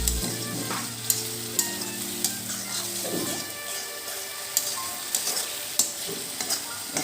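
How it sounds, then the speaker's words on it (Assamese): Paneer sizzles in a pan with turmeric and spices over a low flame, a continuous close frying hiss broken by sharp scraping knocks as the mixture is stirred. "অলপ মছলাকৈ ভাজি লওঁ।"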